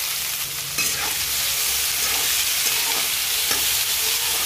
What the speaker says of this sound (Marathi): कांदा छान असा परतला पाहिजे. त्याला छान असं खाली वरती करून घ्या.